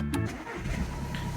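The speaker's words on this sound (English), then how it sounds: "now we need to turn the engine on" A car engine cranks and catches in one short burst, then settles into a steady idle close by, with no talk.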